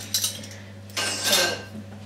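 Pie filling mixed in a bowl, with a light clink at the start and then a scraping, clattering stir of the utensil against the bowl, close and moderately loud with no talk.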